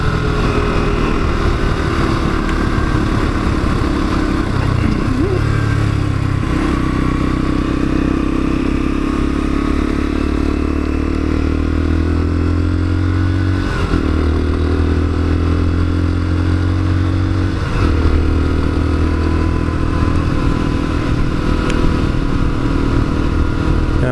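A Lexmoto Assault motorcycle being ridden, its engine droning loudly and continuously with rising and falling revs through several gear changes, close up and with wind noise mixed in.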